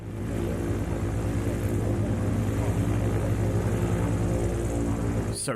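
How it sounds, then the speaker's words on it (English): Aircraft engine droning steadily and loudly at close range for several seconds, a continuous propeller-like roar with a strong low hum that holds even throughout. "let's see this fabulous aircraft in action"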